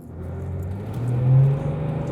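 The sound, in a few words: car engine while driving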